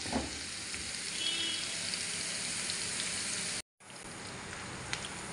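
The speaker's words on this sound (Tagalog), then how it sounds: "Kasi mas iba po talaga kapag nadadampian ng mantika yung sibuyas." Chopped onions frying in cooking oil in a pan for an egg omelette wrap: a steady, close, broadband sizzle that continues throughout, broken by one short moment of silence, with no talking.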